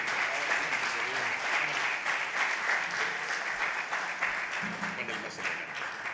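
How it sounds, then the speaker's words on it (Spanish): Steady applause from a business-forum audience as panelists are called up to the stage, a continuous wash of clapping with a faint voice briefly underneath near the end. "Por favor, un aplauso para ellos para que suban aquí al estrado."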